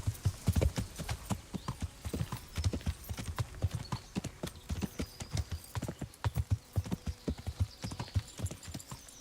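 Horse hooves clip-clop at a steady walking rhythm in the medieval game Kingdom Come: Deliverance, close and distinct, with a brief whinny-like tone partway through and no talking.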